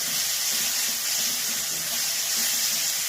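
Water used to rinse a mixer jar is poured into a cooking pan of spiced fish-roe gravy, giving a steady, close, continuous splashing rush with no pauses.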